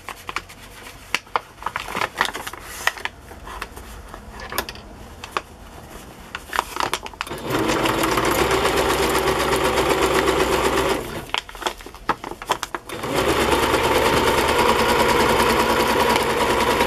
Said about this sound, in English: I'm going to zigzag it, and then I'll sew something else to it.